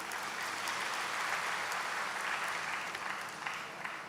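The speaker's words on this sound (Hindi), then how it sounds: "तो जैसे खुशी से ताली बजाई" An audience claps warmly and steadily at a welcome session of a spiritual retreat, dense continuous applause filling the room without a break.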